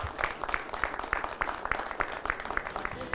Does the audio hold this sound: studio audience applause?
yes